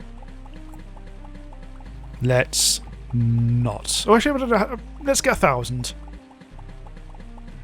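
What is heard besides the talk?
liquid being pumped up in video game Starbound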